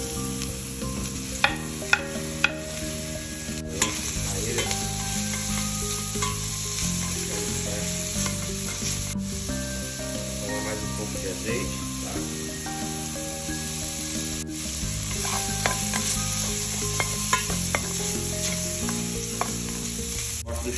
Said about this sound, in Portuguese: Gosto do charque bem frito, então você frite aí, vai mexendo para não grudar no fundo da panela.